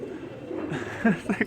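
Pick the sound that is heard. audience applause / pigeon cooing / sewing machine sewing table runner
pigeon cooing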